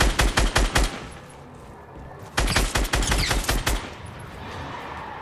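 Rapid-fire gun in the video game Fortnite: a burst of about eight evenly spaced, loud shots, a brief lull, then a second longer burst of steady shots, close and punchy with no voices over them.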